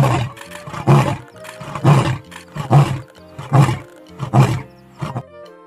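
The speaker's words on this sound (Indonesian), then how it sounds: "lihat, ada singa" A lion roars in a cartoon animal game, a run of six or seven loud, rhythmic grunting bursts spaced about a second apart, close and clear with no talk.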